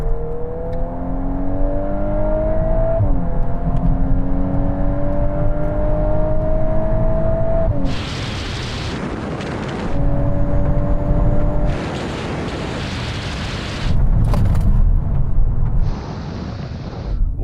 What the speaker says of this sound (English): let's take the launch out of the equation by doing a rolling race in third from 50 miles an hour